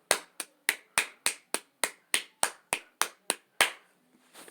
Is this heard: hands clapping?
yes